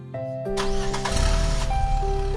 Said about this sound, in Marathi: ती बसताच त्याने कार स्टार्ट केली